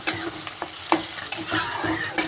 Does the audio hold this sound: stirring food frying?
yes